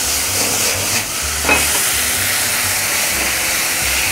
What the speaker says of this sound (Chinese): 我哋首先將啲泡菜咧，帶啲油度爆翻佢